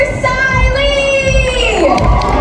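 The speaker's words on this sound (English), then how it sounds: "Next up, please give a round of applause for" A concert crowd at a Hmong American music celebration cheers loudly for an incoming performer, a sustained wash of shouting and whooping voices with little clapping audible, steady and close.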